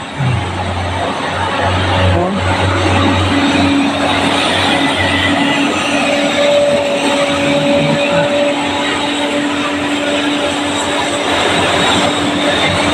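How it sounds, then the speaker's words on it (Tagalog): A bus engine labours uphill in Hong Kong, a constant heavy drone and rumble heard from inside the vehicle, loud and unbroken for the whole stretch. "Hirap na hirap yung bus sa pag-akyat."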